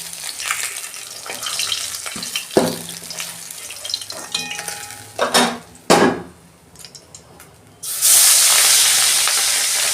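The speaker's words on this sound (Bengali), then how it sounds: "ওই তেলেতেই এই মাছগুলো ভেজে নিচ্ছি" Fish going into hot oil set off a loud, steady sizzle near the end, after scattered clinks and knocks of utensils against pans and a short run of water.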